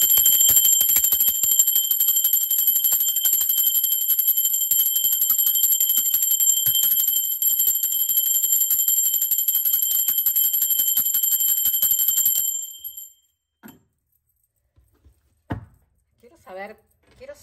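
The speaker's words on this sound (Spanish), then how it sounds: "Así que va campana. Va campana, pero tengo que agarrar el tarot" During a tarot reading a ringing bell sustains a bright, piercing tone with several steady high partials for about twelve seconds. It then stops abruptly, and a few soft knocks and brief sounds follow.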